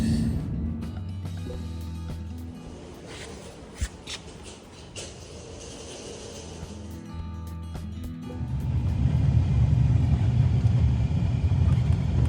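A truck converted into a house rolls along the road, a low engine and tyre rumble with scattered rattles and clunks, the drone swelling louder and broader toward the end.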